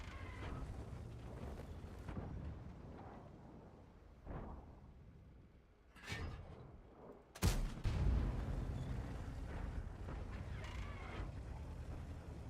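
A single sharp tank cannon shot from a CARRO 45t in World of Tanks bursts out mid-clip, followed by a rumbling boom, amid continuous engine drone and battle noise.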